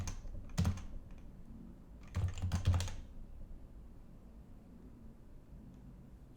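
Two short bursts of rapid clicky keystrokes on a computer keyboard, close and fairly quiet, followed by near silence with faint background hiss.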